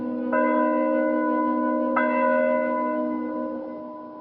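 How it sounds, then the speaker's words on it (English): A church bell tolls twice, slow deep strikes about a second and a half apart, each ringing on and fading away. "The church bell would be tolling from morning to evening"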